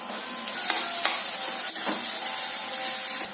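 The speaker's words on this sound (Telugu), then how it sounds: "ఇప్పుడు బాణంలో కొద్దిగా నూనె తీసుకుని ఈ బొప్పాయికాయ ముక్కలు, సన్నగా తరుక్కున్న బొప్పాయికాయ ముక్కల్ని కొంచెం పచ్చివాసన పోయే వరకు వాడుద్దామండి" Thin slivers of raw papaya sizzle steadily in hot oil in a pan, with a few sharp stirring scrapes of a spatula cutting through the continuous frying hiss, close and fairly loud, no voices.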